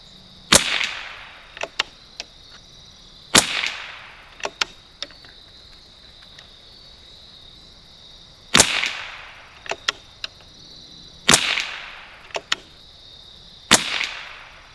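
Rifle shots from a 1972 Anschutz Model 54 firing SK Rifle Match ammunition, five sharp, distant-sounding cracks spaced a few seconds apart, with faint clicks of the action between them over a quiet outdoor background with insect hum.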